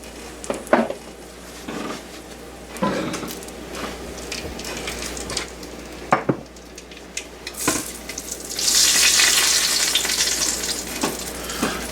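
Hot bacon fat being drained from a frying pan into another pan, giving a continuous sizzle with occasional sharp clanks of the pan, then a rising splashy pour and hiss near the end.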